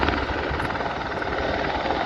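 A helicopter flies close overhead near an airport, its loud rotor and engine roar steady and dense throughout with no voices.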